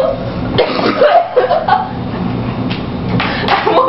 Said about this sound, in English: I wonder where that coughing is from.